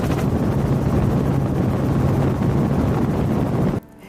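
A helicopter flying over Maui, heard as a loud, steady rotor and engine roar with heavy wind buffeting on the microphone, continuous throughout before cutting abruptly near the end.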